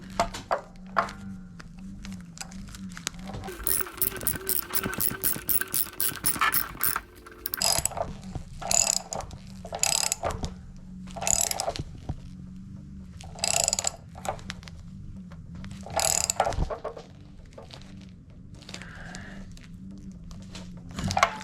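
Ratchet clicks away in a fast run and then in repeated short strokes as a new anode rod with pipe dope on its threads is tightened into a new water heater tank. A low mechanical hum runs underneath, and no one talks.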